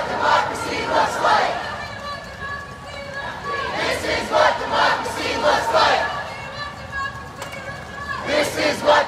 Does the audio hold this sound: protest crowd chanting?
yes